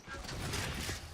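A weapon being reloaded in a tactical shooter video game, heard as a brief, dense mechanical clatter of metallic clicks and rattles lasting about a second.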